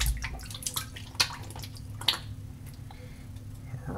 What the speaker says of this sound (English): Wet my face real quick.